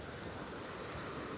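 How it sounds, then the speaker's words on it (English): Strong wind on a Florida beach, heard as a dense, continuous roar of buffeting gusts mixed with surf, loud and unbroken throughout with no voices. "It's not an ideal beach day because it's super windy"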